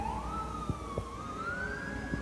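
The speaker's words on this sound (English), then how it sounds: "It sounds like a siren." An emergency siren passes outside a room where a gaming PC is being assembled, its wailing tone rising and falling at a distance, faint under a few small knocks and handling sounds.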